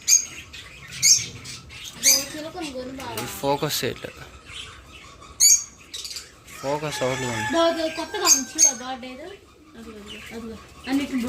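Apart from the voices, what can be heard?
love birds calling in an aviary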